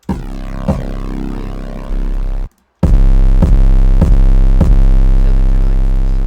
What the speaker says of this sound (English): your kick can clash with an 808